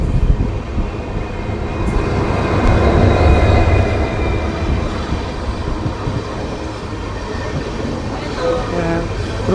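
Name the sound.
Amritsar–Bikaner express train pulling into Talwandi station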